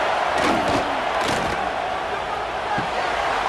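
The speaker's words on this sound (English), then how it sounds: "Here comes this home crowd as the defense tries to get off the field on third down." A home stadium crowd roars in College Football 26 during a third-down defensive stand between Michigan State and Boston College, a dense, steady wall of cheering with a few thuds rising out of it.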